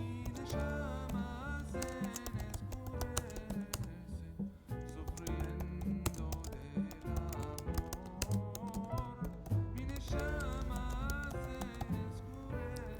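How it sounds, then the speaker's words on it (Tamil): Someone types a message on a computer keyboard while writing HTML, the dense clicking running steadily for several seconds beneath fairly loud background music. "ஒரு மெசேஜ் டைப் பண்ணிட்டேன்"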